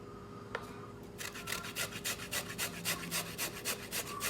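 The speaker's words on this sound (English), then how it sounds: "You can use a hand grater, anything you have on hand that you want to grate it with." Cassava root rubbed on a hand grater, a steady run of close, scratchy rasping strokes in a quick even rhythm after a brief quiet start.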